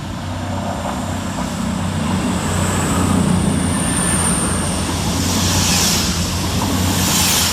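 A CrossCountry class 221 diesel passenger train running from Plymouth to Edinburgh Waverley passes through Woodhouse railway station, a loud, close, steady roar of engine and wheels that builds gently and holds for several seconds.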